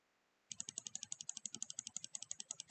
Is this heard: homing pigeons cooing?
no